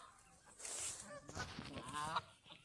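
Geese at a city park pond honk several times in short, scattered calls over faint background noise, fairly quiet and somewhat distant.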